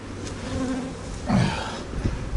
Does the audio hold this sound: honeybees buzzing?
yes